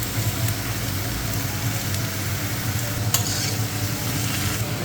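A curry of dried fish and taro stolons, seasoned with salt and turmeric, is stirred in a pan. Steady close scraping and soft sizzling run continuously, with a few sharper clinks of the utensil.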